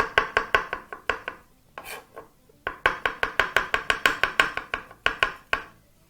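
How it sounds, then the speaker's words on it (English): Knife chopping mushroom very thinly on a board, a fast steady run of close crisp taps in bursts with brief pauses, loud and alone without talk. "Chopping very thinly."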